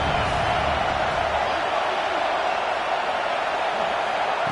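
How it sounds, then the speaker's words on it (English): Ohio State Buckeyes football fans roar during a third-down play at a college game, a steady, dense wall of stadium crowd noise holding at full loudness throughout with no clear breaks. "The Buckeye crowd alive on 3rd down"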